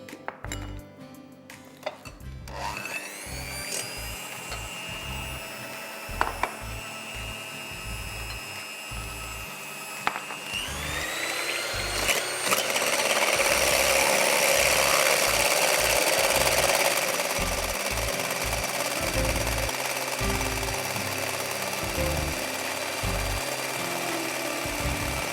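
An electric mixer whirs through eggs and brown sugar in a bowl, a sustained motor whine that rises in pitch and loudness as it speeds up, with intermittent knocks and bumps underneath.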